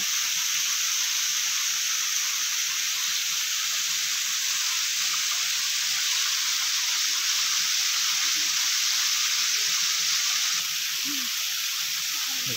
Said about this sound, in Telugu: Small water fall.